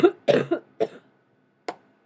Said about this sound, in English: I'm not really sure what this cough's about.